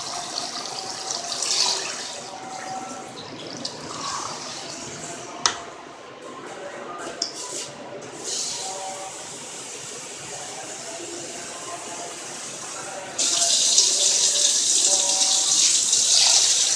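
Water is poured into a pot of fried Lahori chickpeas. Quieter kitchen clatter and a faint voice come first, then a loud, steady rush of pouring water takes over near the end.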